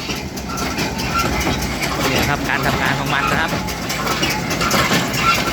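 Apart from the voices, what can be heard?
tractor-pulled sugarcane leaf baler running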